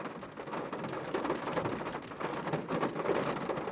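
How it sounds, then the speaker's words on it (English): Rain falling on a small car while sitting inside, a steady soft patter drumming on the roof and body, continuous and fairly faint with no voices. "You hear it raining."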